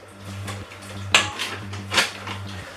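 A spoon stirs keto almond-flour chocolate brownie batter in a bowl, making soft scraping sweeps and two sharper clinks against the bowl, close and clear with no talking.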